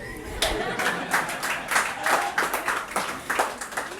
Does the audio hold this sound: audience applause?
yes